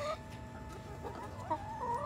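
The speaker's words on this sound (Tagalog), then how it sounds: "Ang bait naman ng manok namin." Chickens cluck softly and steadily at close range over a low background hum, with brief louder calls near the end; no one speaks.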